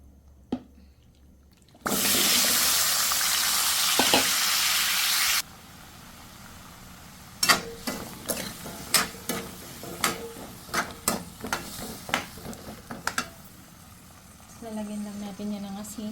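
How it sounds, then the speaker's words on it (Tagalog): Carrots and potatoes sautéing in a pan: a long loud hiss at first, then a run of sharp spoon or spatula knocks against the pan over a lighter sizzle, with a low hum toward the end. "Diyan na natin iluluto yung ano, parang igigisa-gisa pero hindi pa natin lalagyan ng bawang."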